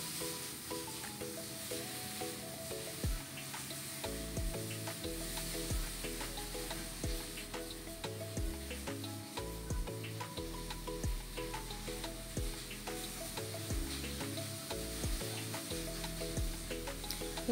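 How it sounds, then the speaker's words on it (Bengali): Water goes into a hot pan of frying rice for Basanti polao, making a constant hissing sizzle that runs on at low level with faint scraping and a low background hum. "এবার আমি দিয়ে দেবো জল। আমি যতটা চাল দিয়েছিলাম তার ডবল জল দিচ্ছি।"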